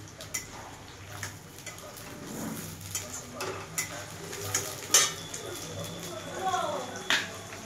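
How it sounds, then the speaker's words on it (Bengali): Onion fries in oil with whole cardamom, cinnamon, dried chillies, cumin and bay leaves, giving a soft sizzle broken by scattered clinks and scrapes of a spoon stirring in the pan, while a voice talks over it. "তেলের মধ্যে দিয়েছি গোটা এলাচ, দারচিনি, শুকনো লঙ্কা, জিরে আর তেজপাতা দিয়ে পেঁয়াজটাকে ভাজছি।"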